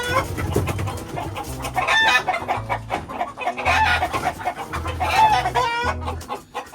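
Fighting roosters cluck and crow repeatedly close by, their calls overlapping above a pulsing low hum.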